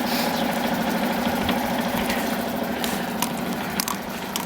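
A yacht's outboard motor running at a steady idle, a continuous droning hum with a faint rattle, close by and alone without talk.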